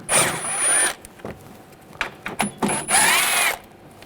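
A power tool with an 8mm socket backing out headlight screws on a 2007-2013 BMW 328i, whirring in two close bursts with short gaps of quiet handling noise between.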